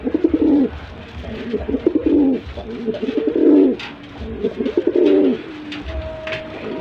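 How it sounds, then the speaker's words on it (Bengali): A male white shirting pigeon coos repeatedly while turning around, a series of close, rhythmic throaty coos in bursts with short pauses between them. "দেখেন নটটা কেমন পাগলা, ঘুরে ঘুরে ডাকে।"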